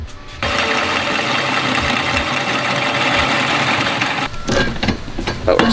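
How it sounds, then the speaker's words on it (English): A 2-inch hole saw grinds a notch into steel tube, a loud continuous rasping drone with uneven chatter that runs steadily for several seconds before trailing off into irregular bursts. "So we're gonna use a 2-inch hole saw to, you know, account for that."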